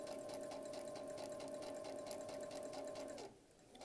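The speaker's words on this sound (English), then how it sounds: "Reverse stitch, 5 stitches, and stitch to the end." Sewing machine stitching cloth for quilting, a steady fast mechanical whir with a rapid needle rhythm, running continuously up close before slowing to a stop at the end.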